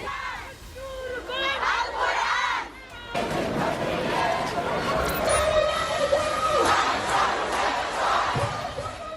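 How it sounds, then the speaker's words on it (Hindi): A protest crowd marching in Ramallah with flags and banners shouts slogans against Israel, a dense roar of many voices rising and falling with loud bursts, continuous for several seconds. "भीड़ से नारेबाजी कर इजराइल के खिलाफ अपने गुस्से का इजहार किया।"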